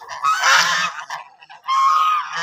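Muscovy ducks in breeding season give loud, close, harsh honking calls in two bursts separated by a brief quieter gap.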